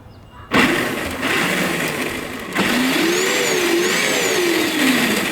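An electric motor in a Power Wheels jeep modified to run on 48 volts starts abruptly, whining loudly, then steps up in pitch and holds a high, wavering whir, close and alone.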